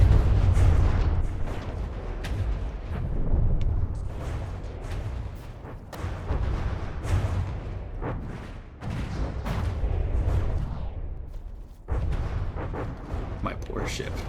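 Frag shells from a ship's main guns exploding in the game From the Depths, heard as repeated heavy booming blasts with low rumbling decay, one after another at irregular intervals over a sustained noisy background.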